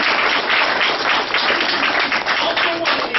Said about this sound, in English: let's give a big round of applause and clap for our parents